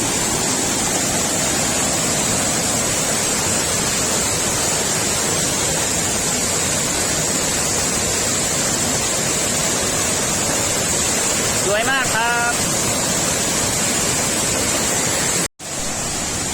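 Tad Sae waterfall in Luang Prabang, Laos, gives off a loud, unbroken rushing roar up close, and someone speaks briefly over it near the end.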